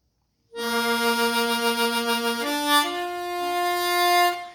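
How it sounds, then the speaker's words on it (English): A Seydel Shamrock octave harmonica plays sustained, reedy chords with a rich doubled tone, moving through a few note changes, loud and close with no talking. "there's a certain richness that you get from an octave harmonica"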